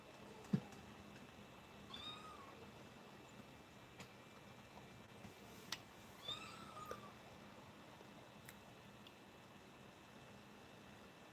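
A cat meowing twice in a quiet indoor room, two short faint cries spaced a few seconds apart over a low background hiss, with no one talking.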